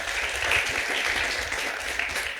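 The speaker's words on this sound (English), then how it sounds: "Can you have a round of applause for him" An audience at a democracy hackathon event in Kenya gives a steady round of applause, a dense, even wash of clapping at moderate distance.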